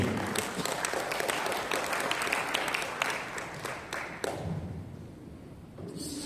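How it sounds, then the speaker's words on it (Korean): Church audience applauding to welcome a preacher, dense clapping that is steady at first and then thins and fades toward the end, with scattered louder claps and no speech. "우리 박수로 환영하도록 하겠습니다."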